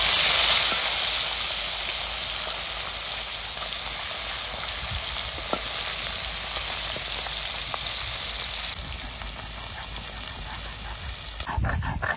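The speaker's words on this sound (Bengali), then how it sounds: "তেল গরম হয়ে গেছে, এবার মাছ দিয়ে দেবো।" Tangra fish added to hot oil for a light fry, producing a loud, continuous hiss and sizzle that eases slightly over several seconds, with a sharp clatter near the end.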